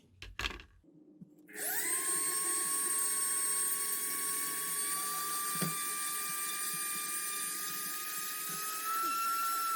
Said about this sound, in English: I need to drill a hole down in here where the wiring is going to go down into the engine core here